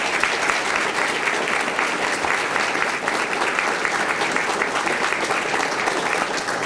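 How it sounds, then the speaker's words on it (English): Sustained, loud audience applause at a police promotion ceremony after a police color guard, a thick even wash of many hands clapping that holds steady throughout without talk. "Let's give them a round of applause."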